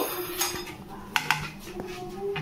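Metal cookware clanks twice in quick succession against a hard surface, with softer scraping and clinks around it, close by and fairly quiet.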